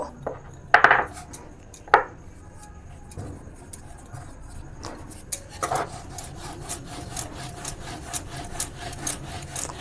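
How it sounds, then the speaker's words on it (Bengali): Pitha dough rolled out into roti-size rounds with a rolling pin on a wooden board: rhythmic rubbing and rolling strokes with a few sharper knocks early on, close and alone. "বড় বড় করে রুটির সাইজে বেলে নেব"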